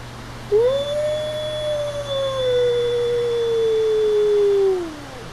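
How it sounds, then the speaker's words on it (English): A single long wolf howl rising then sliding slowly downward, clear and sustained over a quiet background, with no other animals answering. "you'll hear him do a lone howl here, but nobody else responds"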